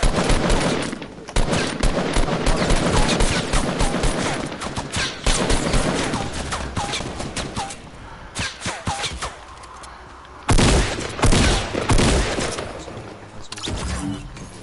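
Rapid video-game gunfire in dense automatic bursts runs almost continuously, loud and close, with a brief lull before a fresh heavy volley; faint voices sit low beneath the shooting.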